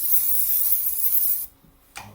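A spray gun lets out a loud, close, continuous hiss that cuts off abruptly, followed by a short burst of spray.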